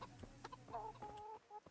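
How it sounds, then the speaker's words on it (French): Chickens clucking in the video game Kingdom Come: Deliverance, a few short, tonal clucks in quick succession, quiet and close, with no talking. "Regardez-moi ces poules."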